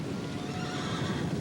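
Horses neighing and whinnying amid a dense, noisy backdrop with hooves clip-clopping, a continuous agitated commotion of several animals.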